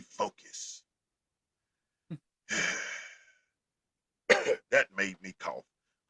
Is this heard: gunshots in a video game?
no